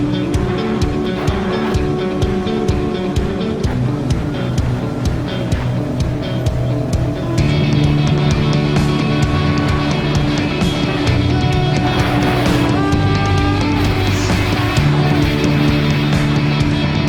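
A loud CF Moto 700 CL-X motorcycle engine drones steadily throughout, its pitch shifting as it revs up and settles, heard close with no voices.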